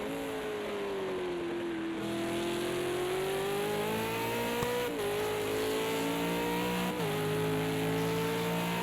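A V8 Supercar race car laps Bathurst in a racing game, its engine droning steadily at high revs and shifting pitch through gear changes and corners, loud and close with no talk.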